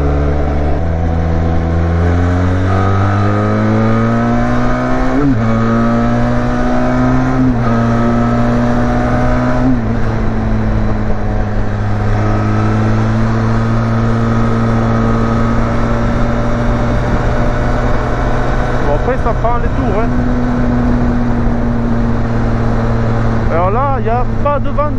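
A 2020 Benelli TRK 502 500 cc motorcycle engine hums steadily while riding, its pitch climbing through the first few seconds and then holding an even, moderate drone with little variation.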